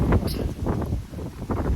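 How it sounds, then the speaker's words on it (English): Gusty wind rumbles against the microphone in an open field beside a hedge, a steady close buffeting that swells and dips throughout with no voices. "It's very windy today"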